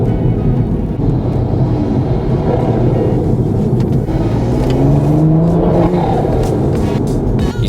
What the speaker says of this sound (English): Start to hear all sorts of crazy noises when the traction control kicks on and it starts cutting boost